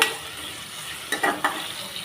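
Onions sautéing with rock salt in a pan for pressure-cooker chicken biryani, a soft steady sizzle broken by a few scraping stirs of a spoon, close, with no talking.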